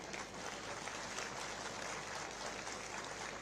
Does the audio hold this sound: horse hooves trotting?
no